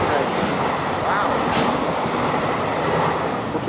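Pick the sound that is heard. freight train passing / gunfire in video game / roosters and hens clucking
freight train passing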